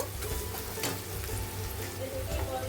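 Frying in a pan during cooking of a cauliflower and rohu fish curry with dried lentil dumplings, a steady close sizzle running throughout with a few louder crackles, no talking.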